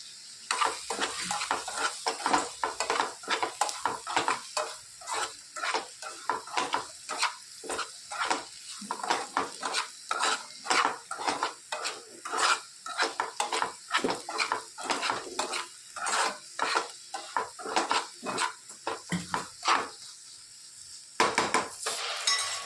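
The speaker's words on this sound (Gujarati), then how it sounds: "આપણો મસાલો મસ્ત સરસ શેકાઈ ગયો છે." Masala spices are stirred and roasted in a pan, with a rhythmic run of scraping and clinking spatula strokes over a soft sizzle that goes on steadily without talk.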